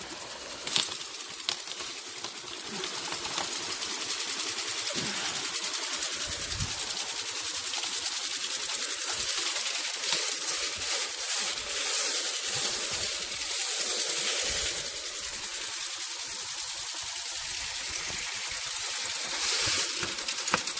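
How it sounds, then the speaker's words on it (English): Water rushing steadily through a window screen cleaner hose after a leaky hose connection was fixed, a continuous loud hiss and spray with slight surging, no talking. "I've fixed the connection where the hose goes in, getting rid of that leak, and now just a lot better water flow"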